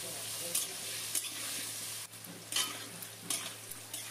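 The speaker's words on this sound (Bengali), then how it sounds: "ফোড়নটা ভালো মতো হয়ে গেলে এর মধ্যে দিয়ে দিলাম ডুমো করে কাটা নতুন আলুর মধ্যে দিয়ে দিলাম অল্প একটুখানি হলুদ গুঁড়োটা দিয়ে আলুটা ভেজে নেব।" Diced new potatoes fry in hot oil with a little turmeric after the tempering spices, giving a steady close sizzle broken by a few short stirring scrapes.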